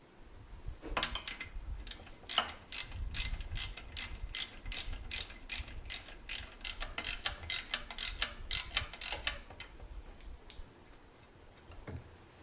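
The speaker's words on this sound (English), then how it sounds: "Then we'll grab our ratchet and our 12mm deep socket." A ratchet with a 12mm deep socket tightens the drive belt adjuster on a Subaru: a quick, loud run of sharp metallic clicks in rhythmic bursts, then a pause and a couple more clicks.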